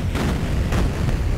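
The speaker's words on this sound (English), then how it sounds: "let's go ahead and shoot these explosive objects" Gunfire blasting explosive objects in the video game Duke Nukem 3D, a dense run of loud booming bursts and pops with no pause between them.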